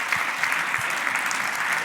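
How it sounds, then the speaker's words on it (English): Steady, dense audience applause for a speaker at a testimony event, with many hands clapping continuously at an even level and no voices over it. "Let's give him another big round of applause"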